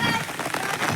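Heavy rain falls with strong wind outdoors on a farm, a dense, continuous hiss and patter with no breaks, loud and close.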